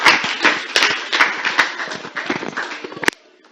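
An audience at an international conference on women's rights claps close by for about three seconds, in dense, uneven applause that stops abruptly, with no talking heard.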